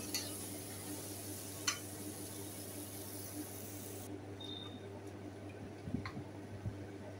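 Potato chunks being stirred in hot oil for a potato curry, with a steady low sizzle and a few soft scraping knocks of the spoon against the pan near the end.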